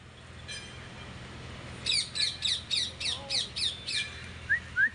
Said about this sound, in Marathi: इथं पोपट आहे